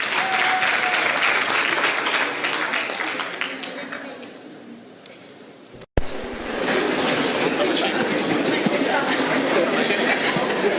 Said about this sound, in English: A round of applause for the artists.